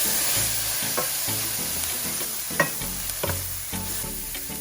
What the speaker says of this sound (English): I'm going to add some garlic, chopped garlic.